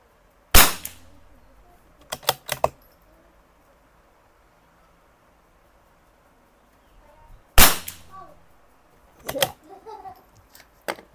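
A CZ 457 Jaguar rifle with a 23-inch barrel fires at a 50-meter range: two sharp, loud shots about seven seconds apart, each followed by a few quick metallic clicks of the bolt.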